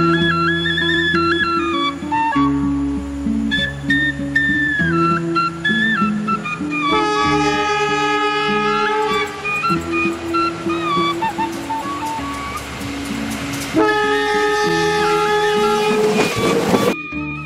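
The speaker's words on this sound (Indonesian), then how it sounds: "saya naik lokomotif yang kondisinya masih baru sekali" A nearly new CC204 locomotive on a certification test run rolls along rails with steady rumbling, squealing metallic tones and rhythmic clatter, loud and close throughout.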